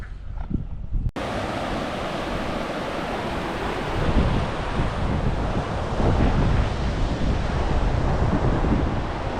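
The Berkeley River in the remote Kimberley region rushing hard, a dense, steady roar of churning water mixed with gusting wind buffeting the microphone, growing louder partway through with no voices.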